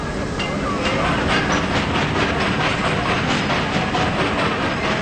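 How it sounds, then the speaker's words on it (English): A steam train hauling granite blocks at a quarry rumbles along loudly and steadily, with rhythmic clatter and hissing blending into a dense, continuous roar. "The steam engine will take the granite blocks directly to the wharf to be put on the boat."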